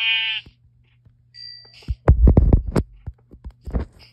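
Sheep bleating in a video game: a short nasal bleat at the start and another brief one shortly after, followed by a burst of loud, close thumping hits.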